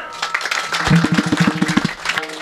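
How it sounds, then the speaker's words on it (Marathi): Applause from a kirtan audience on a Bhagwan Baba birth anniversary program, a burst of hand claps rising and fading over about a second with some talk underneath. "माझ्या माता माऊल्या बहिणीसाठी टाळ्या वाजवाकडे एकदा."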